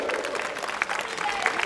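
A studio audience claps through a short burst of applause at a televised StarDance dance show, a dense, even patter of many hands.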